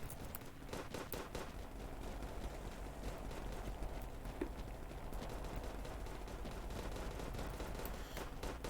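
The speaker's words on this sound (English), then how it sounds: "Just everybody on the map was, like, shooting at once." Many players firing guns at once across the map in a war video game, a dense steady barrage of overlapping gunshots and bursts, some close and sharp, most further off and blended together.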